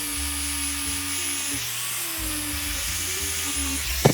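A felt buffing wheel loaded with red polishing compound spins against a rusty axe head, making a steady, loud motorized whine with a high hiss on top and small pitch shifts as pressure changes, close up and with no talking.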